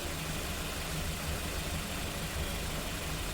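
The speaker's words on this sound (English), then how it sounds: "While the engine is running, look under the car and check for any oil leaks" A Maruti Swift engine idles steadily just after an oil change, a continuous low rumble with a constant, even level throughout and no voices.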